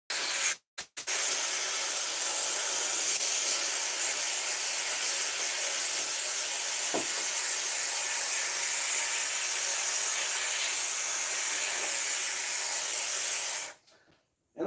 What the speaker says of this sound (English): that steam, man, it'll make you hot.